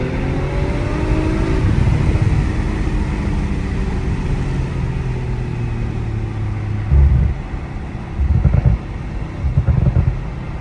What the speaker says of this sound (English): It's just two resonator boxes deleted below this center console.